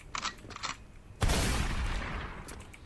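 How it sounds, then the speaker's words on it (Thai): A couple of quick muffled shots are followed by a loud blast of gunfire that booms and slowly fades, with faint shots trailing afterward. "สนุกครับยิงปืนเนี้ย สนุกจริง ๆ"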